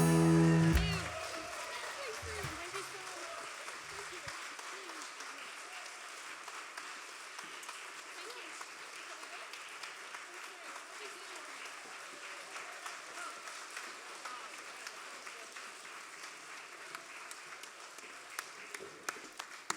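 An audience applauds after a choir's singing performance at a Polish-Irish festival in Kilkenny: steady, fairly distant clapping that continues evenly for about twenty seconds after a brief opening moment of louder sound.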